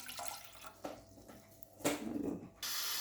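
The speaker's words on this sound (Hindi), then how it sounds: "1 कप हम इसके अंदर पानी डालेंगे" Water pours from a cup into a pan in a home kitchen, a short, soft splashing trickle that swells near the end into a steady, close rush.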